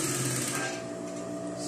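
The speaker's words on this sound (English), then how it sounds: "I'm going to stitch." Sewing machine running steadily while stitching a flare dress, a continuous close mechanical whir with a dense rapid needle rhythm, heard alone without talk.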